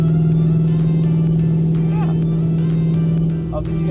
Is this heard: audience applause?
no